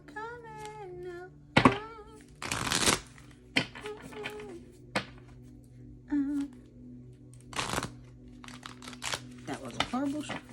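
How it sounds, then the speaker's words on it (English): A deck of cards being shuffled gives a few short, crisp riffling bursts and thumps. They sound close, with a voice singing and speaking between them. "That was a horrible shuffle."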